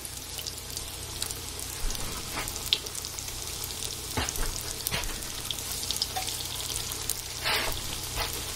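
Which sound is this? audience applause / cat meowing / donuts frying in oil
donuts frying in oil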